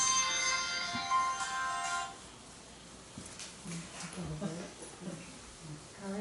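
A mobile phone ringtone plays a bright repeating melody for about two seconds, then cuts off, leaving soft room sounds and faint voices.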